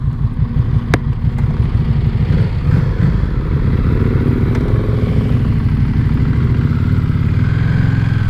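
An EBR 1190RX sport motorcycle runs loud and close, its big twin engine throbbing in a steady pulsing rumble that builds slightly as it gets ridden, with a couple of sharp clicks.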